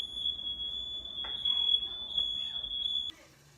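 A smoke alarm goes off during cooking, a loud continuous high-pitched tone that holds steady for about three seconds before cutting out abruptly. Faint background noise sits beneath the tone.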